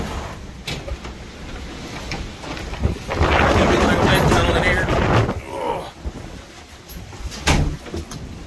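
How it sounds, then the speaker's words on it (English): Gusty wind buffets the microphone outdoors on Baffin Bay, swelling into a loud, rough roar midway before easing back to a steady rush. "It is windy."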